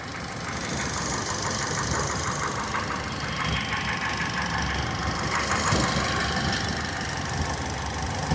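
A 1.2-litre Kappa car engine idles steadily with a constant mechanical rattle and hum. It is close and fairly loud, and nobody speaks.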